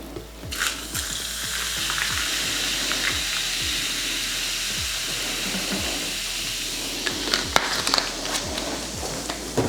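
Quick stir of a mojito topped with soda water in a glass filled with ice: a run of brisk, close clinking and rattling of ice against glass with a fizzy hiss throughout, no voices.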